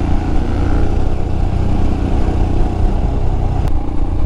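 Honda CBR150 motorcycles ride along a highway, giving a steady, continuous drone of engines and road rush that holds at an even loudness throughout.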